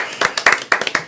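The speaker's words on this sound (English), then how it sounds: "let's clap up for Sarah" Hands clapping in a podcast studio to welcome a guest, a short burst of about eight uneven, close, crisp claps from one or two people, with no talking over them.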